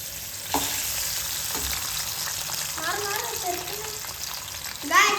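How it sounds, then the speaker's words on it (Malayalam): Potato slices fry in hot oil for crispy snacks, a steady sizzling hiss running throughout, with a few sharp clinks of a utensil and a brief voice in the background. "നമ്മൾ അങ്ങനെ ഇടുന്നുണ്ട് കണ്ടോ അതിന് നമ്മളിതിന് ഫ്രൈ ആവാൻ വേണ്ടി വെയിറ്റ് ചെയ്യണം"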